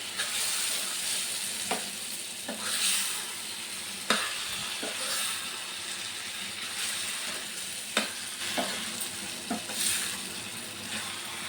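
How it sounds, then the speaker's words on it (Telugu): Curry being stirred in a pan, a soft continuous sizzle with periodic scrapes and knocks of the spoon against the pan, fairly quiet and with no voices. "ఇంకొకసారి బాగా కర్రీని కలుపుకోవాలండి."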